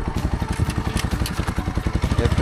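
Engine of an NS200 motorcycle running close by as the bike is parked, a steady rapid low pulsing throb with light mechanical clatter, heard alone without talk.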